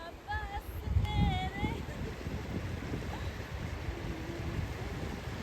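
Strong wind blows outdoors at a picnic spot, buffeting the microphone in rumbling gusts while people talk nearby.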